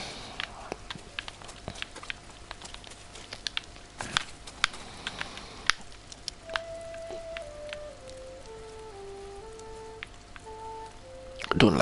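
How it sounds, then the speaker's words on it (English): Rain falling in the open-world samurai game Ghost of Tsushima, a soft steady patter with scattered drop ticks, faint footsteps and a quiet melodic tone rising and falling underneath. "Don't like this rain."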